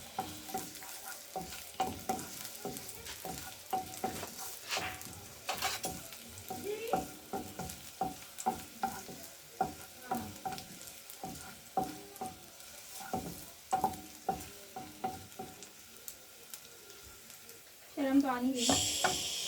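Garlic sautéing in a pan, with steady sizzling under frequent scraping stirs, close and fairly loud, ending with a sharper burst of frying. Someone speaks at times over the cooking.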